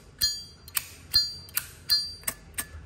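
Zippo lighter lid flicked open repeatedly, giving four bright metallic chimes with sharp clicks in between, close and clear with no talking.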